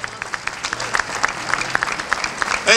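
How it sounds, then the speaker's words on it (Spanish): A crowd at a Mexican race event breaks into loud clapping for the runners, dense and sustained, with a voice cutting in at the very end. "Un aplauso fuerte."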